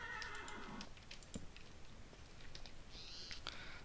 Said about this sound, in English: I can't tame any more horses.